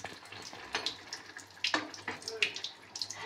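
A pot of fish curry (macher jhal) on a home stove comes to a boil, giving a steady close bubbling and watery burble with scattered louder pops and gurgles, heard alone.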